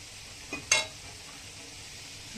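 Potatoes frying in a pan, a faint steady sizzle with a couple of brief scraping stirs of a spatula partway through.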